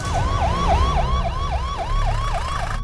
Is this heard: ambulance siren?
yes